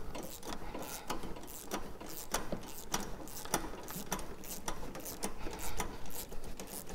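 A wrench snugs up a bolt on a 1FZ-FE turbo kit install, giving a quiet run of rapid ratcheting clicks in short bursts, close to the mic and with no talk.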